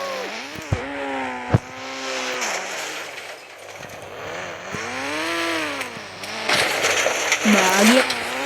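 Car crashing in a racing video game, revving engine tones rising and falling with sharp impact bangs early on and heavy crunching noise near the end, mixed with game sounds and a voice talking over it.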